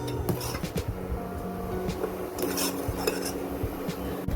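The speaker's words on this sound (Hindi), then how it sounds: "इसको आपने चम्मच से हिलाते रहना है, फेंटते रहना है।" A spoon clinks and scrapes steadily inside a pot of Kashmiri chai as it is stirred and whisked, repeated metallic taps over a constant background hum.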